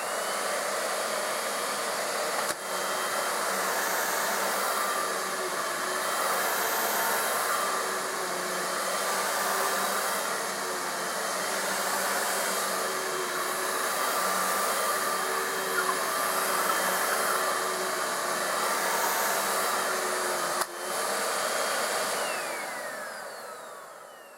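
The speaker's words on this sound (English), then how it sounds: "Next is the Hoover Rewind." A Hoover Rewind vacuum cleaner runs steadily and loud for the whole stretch, a constant whirring motor roar with broadband airflow hiss and two brief dips in the drone.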